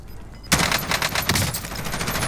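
Rapid automatic gunfire from a Call of Duty: Modern Warfare squad match bursts in loudly after a brief quiet lead-in, then carries on as dense, overlapping rattling shots with scattered louder cracks.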